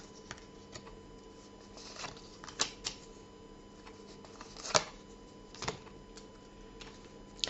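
Fortune-telling cards handled and shuffled softly, with scattered faint snaps and flicks at irregular intervals over a quiet room hum, with no talking.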